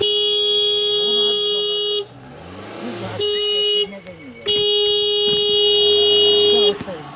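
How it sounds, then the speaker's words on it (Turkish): A loud car horn blares in three long, close blasts separated by short pauses, with voices talking faintly in the gaps. "Kornaya bak."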